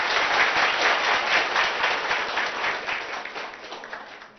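A crowd of villagers applauds at a gathering with the Chief Minister in Vasalamarri village, dense sustained clapping that fades slightly toward the end.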